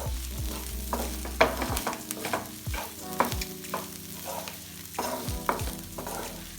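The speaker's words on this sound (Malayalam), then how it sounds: "നമ്മുടെ കക്ക ഫ്രൈ ആയിട്ടുണ്ട്. നമുക്കൊന്ന് ഇളക്കി നോക്കാം." Clams frying in a pan being stirred, a steady low sizzle broken by repeated scraping and clinking strokes of the spoon, fairly close and moderately quiet.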